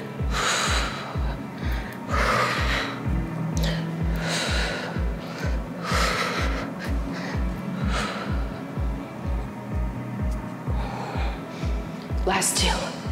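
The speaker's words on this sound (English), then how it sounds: "See how I'm breathing." Rhythmic, close breaths from someone doing a beginner Pilates workout, puffing in a steady repeated tempo against a pulsing music beat, loud and continuous throughout.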